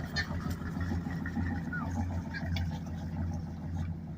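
An old wrecker tow truck engine runs steadily as the truck drives off, a continuous low rumble under faint background speech.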